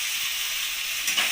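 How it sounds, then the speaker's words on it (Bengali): Vegetables for a cabbage curry sizzle and hiss in a frying pan as they are stirred, a steady close-up crackle with a slight swell near the end. "এবার একটু নাড়িয়ে নেব সবজিগুলোকে"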